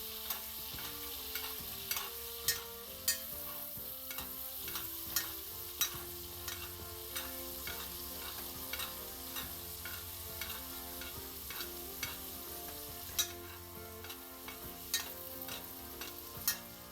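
Steak being basted with butter in a frying pan, a steady sizzle with repeated clinking spoon scoops at an irregular, unhurried rhythm, close and alone without talk.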